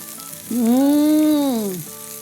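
Grilled BBQ chops sizzle steadily on a hot surface, a loud close hiss that swells for about a second and a half with no talk over it.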